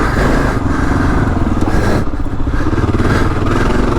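Kawasaki KLR dual-sport motorcycle riding a whooped-out desert trail, its engine droning loud and steady up close with rough clatter and slight surges throughout.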